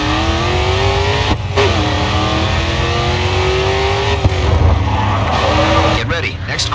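A race car engine in GRID 2 drifts through a corner, holding a steady, loud revving tone that dips and climbs again as the throttle comes back on, with a voice talking over it.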